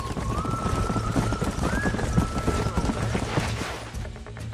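Horses in the Western game Red Dead Redemption clop along with steady hoofbeats under a low rumble while a long whinny rises and wavers over them, the sound of horses close by.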